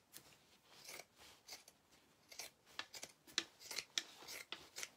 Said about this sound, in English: I take my pinking shears and hold on, I'm gonna come back up so you all can see it, but I do a rough cut.